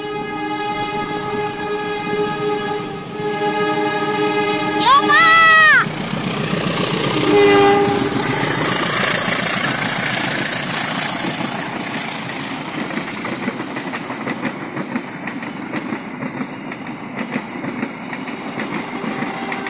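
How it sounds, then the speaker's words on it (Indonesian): The Serayu passenger train, running from Pasar Senen to Purwokerto, passes straight through Gerbangkong station, sounding a loud multi-tone horn followed by the roar and rhythmic clatter of carriages rushing close by. "Kereta api Serayu melintas langsung stasiun Gerbangkong."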